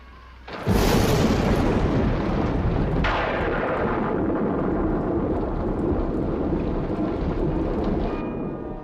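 A loud crash of thunder breaks out and rolls into a long, heavy rumble over steady pouring rain, with a second crack midway.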